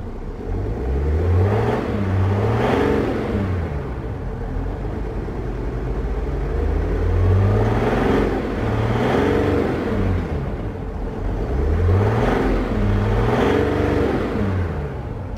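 Diesel engine of a 2016 Mercedes-Benz CLS350d Shooting Brake revved repeatedly to a limiter around 3000 RPM, three loud swelling rises and falls with a rumbling whir between them, heard up close without talk.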